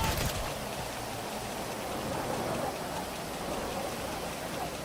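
Steady rain in the GTA 5 video game pours as a dense, even hiss that fills the whole stretch without a break, fairly loud and with no talk over it.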